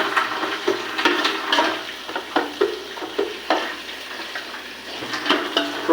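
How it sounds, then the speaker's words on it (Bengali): Onions frying in ghee for a Bangladeshi-style polao, with a steady sizzle broken by repeated stirring scrapes of a spoon against the pan, close and fairly loud, with no talking. "ঘি দিয়ে পেঁয়াজটা ভাজি করে আমরা"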